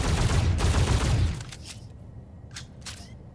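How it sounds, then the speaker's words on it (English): Video game gunfire in four-round bursts triggered from a modded controller, a dense rattling volley at the start fading into a few quieter, short distant shot bursts. "he will fire 4 rounds in burst."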